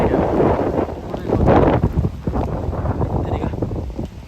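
Strong typhoon wind in Okinawa buffets the microphone in loud, steady gusts with rumbling roar throughout, and a voice speaks over it.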